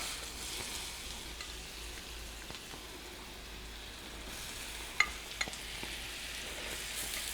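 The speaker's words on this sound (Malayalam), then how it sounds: "ഇതിലേക്ക് ഞാനിവിടെ സവോള ചേർക്കാൻ വേണ്ടിയിട്ട് പോവാണ്." Sliced onions for an onion pickle go into oil with frying spice powders, making a soft continuous sizzle with light stirring, and a couple of small clinks near the end. No one speaks.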